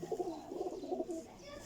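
Pigeons cooing close by, a soft, low, rolling murmur of overlapping coos that runs steadily throughout.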